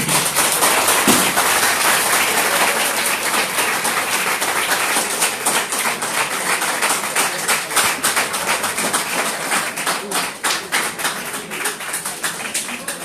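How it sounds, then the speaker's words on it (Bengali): An audience at a farewell and scholarship award ceremony at a coaching centre in Moulvibazar claps steadily, a dense, sustained burst of many hands applauding loudly and close, gradually thinning toward the end. "সকলের কাছে জোরে একটি করতালি আশা করছি"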